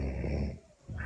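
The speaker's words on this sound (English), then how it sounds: "Who the fuck is snoring?" A person snores in loud, rasping breaths, a long raspy inhale, a short gap, then another snort starting up, close and with no talk.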